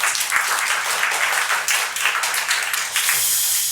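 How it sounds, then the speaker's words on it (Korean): A church congregation applauds together, with dense, sustained clapping that carries steadily throughout. "우리 맞다면 하나님께 영광의 박수 올려드리겠습니다."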